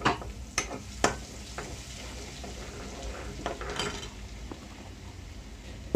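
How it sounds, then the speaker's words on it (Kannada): Cumin and mustard seeds fry in coconut oil, a low steady sizzle broken by scattered sharp pops and clicks as the seeds crackle, close and fairly quiet. "ಜೀರಿಗೆ, ಸಾಸಿವೆ, ಕೊಬ್ಬರಿ ಎಣ್ಣೆಯಲ್ಲಿ ಮಾಡ್ಕೋತಾ ಇದ್ದೀನಿ."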